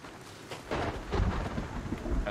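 In the survival video game Sons of the Forest, rain pours steadily while heavy rolls of thunder rumble and swell, loud and close, with no voices present.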